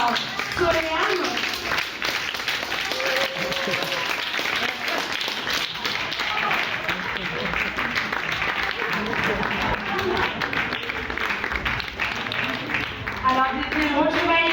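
Audience applause at a reunion during an interview event, steady clapping throughout with voices and crowd murmur mixed in, fairly loud and continuous.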